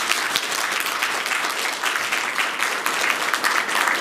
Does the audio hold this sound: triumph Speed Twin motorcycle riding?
no